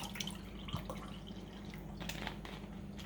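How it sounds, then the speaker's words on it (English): Brisk lemon iced tea being poured into a glass: a short, steady liquid trickle with small drips and splashes, close and moderately quiet, with no talking. "I'm just pouring myself a little bit of brisk tea with lemon in it."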